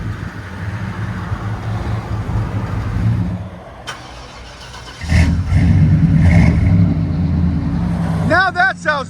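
A Chevy Silverado 1500 pickup with a 5.7L 350 V8 and Flowmaster exhaust rumbles loudly up close, dips briefly, then revs back up into a deep throaty roar, with a short spoken voice near the end.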